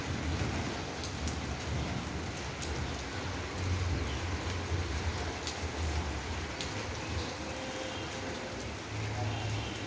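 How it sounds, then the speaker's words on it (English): Heavy rain pours steadily in India, a dense continuous hiss of drops on surfaces, loud and close throughout with faint low rumbles. "It's raining everywhere. See, it's rain. The rain is everywhere."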